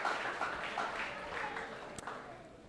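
A church congregation at a Christmas Day service claps for Jesus, a broad, continuous wash of applause from many hands that holds steady throughout.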